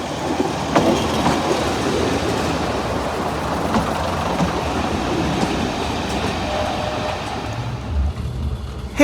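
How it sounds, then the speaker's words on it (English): A Class 115 DMU diesel train pulls into a small heritage railway halt on the West Somerset Railway, with a loud, continuous rumble and clatter of wheels on track close by and a faint squeal of wheels near the end. "Here is my next train arriving into Doniford Holt"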